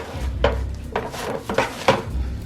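Cereal being stirred and folded into melted marshmallow in a pot for Rice Krispies or Cocoa Pebbles treats, with four or five scraping, clinking strokes of a utensil against the pot, close and moderately loud.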